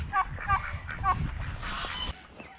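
Ducks or other poultry in a yard give several loud, close honking calls in quick succession, with scuffling and a little background noise before the calls stop abruptly.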